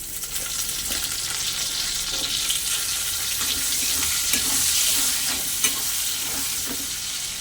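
Steady sizzle of salted potatoes frying in oil with onion and chili, broken by repeated scraping and stirring sounds of a utensil against the pan.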